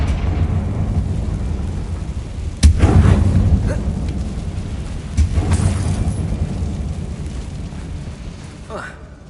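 Confringo blasting spell explosions in Hogwarts Legacy, set inside a closed, tomb-like mine: two sharp booms about three seconds apart, each decaying slowly over a steady low rumble of game ambience.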